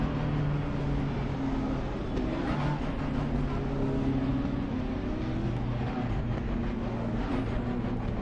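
Race car engine droning steadily in Assetto Corsa Competizione while the tyres are warmed up, a continuous mid-loud hum with slight pitch wavering throughout and no clear passes.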